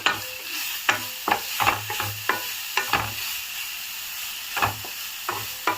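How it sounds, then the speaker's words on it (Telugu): Grated carrot frying for carrot halwa, a soft sizzle broken by regular scraping stir strokes against the pan, close and steady. "ఇప్పుడు ఇందులోకి క్యారెట్ వేసుకొని వేపుకుందాము."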